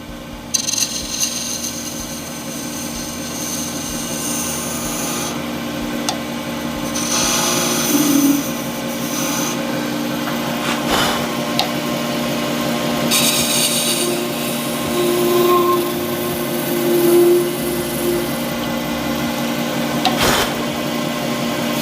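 A skew chisel rides against a resin shaving brush handle spinning on a lathe, giving a continuous, close scraping hiss over the motor's steady hum, with a few brief clicks.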